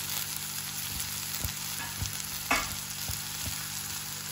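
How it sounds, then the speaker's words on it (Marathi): Red amaranth leaves sizzle in a hot pan while being stirred, with a steady hiss of frying broken by soft, irregular scraping and clinking strokes, one louder knock midway. "आणि हा पाला आता चांगला आपण ढवळणार आणि वर झाकण ठेवून"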